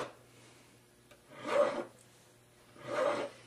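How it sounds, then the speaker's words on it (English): The edge of a jeweler's file rasps across the outside of a metal ring shank to remove excess solder. Two separate close, scratchy strokes come with a quiet pause between them. "as I'm filing, I'm just using the edge of the file on the shank"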